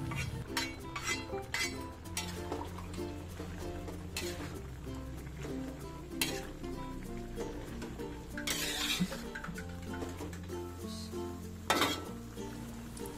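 Chicken being stirred with cabbage, spring onion and celery in a pan for tongseng, with steady scraping and clinking of a utensil against the pan over a constant low hum and occasional louder clanks.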